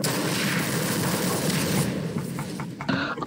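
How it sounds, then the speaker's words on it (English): A loud, booming rocket explosion in a first-person shooter game, a dense roaring blast that fades after about two seconds into scattered gunfire pops and clatter. "he used a rocket on me and I survived"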